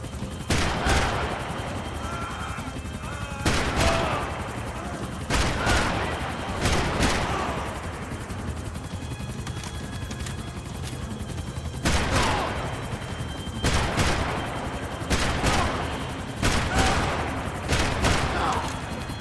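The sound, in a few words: gunfire from guns shooting at enemies in a video game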